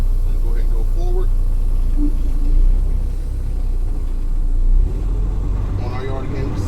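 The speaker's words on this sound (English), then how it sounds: "I'm just giving a little bit of fuel." A commercial truck creeps forward on a practice yard as the driver gives it a little fuel. The engine rumbles low and steady, swelling briefly before easing off, with talk over it.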